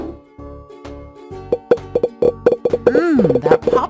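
Popcorn pops in a kids' movie-night snack video game as a run of quick, bright plops. The pops start sparse, then come faster and overlap, set against light cartoon background music.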